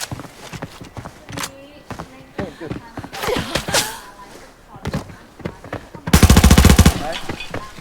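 Bursts of automatic gunfire in the Arena Breakout shooter game ring out between sparse sharp shots, ending in a loud, dense volley near the end, with excited voices talking over much of it.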